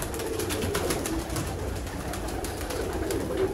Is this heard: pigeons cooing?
yes